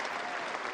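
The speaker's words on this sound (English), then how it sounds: "the French crowd, who gave him that standing ovation" A French crowd gives a standing ovation at the 2015 Roland Garros men's final between Djokovic and Wawrinka, with dense continuous applause filling the whole short moment.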